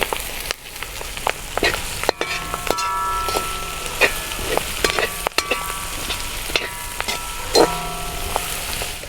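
Chopped shallots and curry leaves fry in a hot pan for a mussel roast, a continuous close sizzle broken by repeated scraping and stirring strokes, with no talking.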